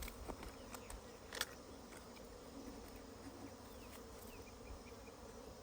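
Bees buzzing during a rescue of a colony from a tree trunk, a faint, steady insect hum with scattered louder passes and a few small knocks, no voices.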